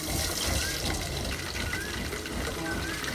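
About one cup of water is poured into a cooking pot of onions for kala chana pulao, a short steady splashing pour close by.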